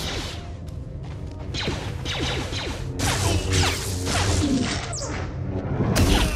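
Blaster bolts deflected by a Sith Warrior in Star Wars: The Old Republic on Korriban: rapid swishing whooshes, sharp zaps and smacking hits in quick irregular bursts, loud and busy throughout, with heavier crashes around 3 and 6 seconds.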